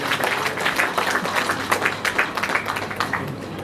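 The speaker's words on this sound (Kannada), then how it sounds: "ಒಂದು ಜೋರಾದ ಚಪ್ಪಾಳೆ ಬರಲಿ" Audience applause at a film event, a dense steady patter of many hands clapping close and loud for the whole stretch, with no one talking over it.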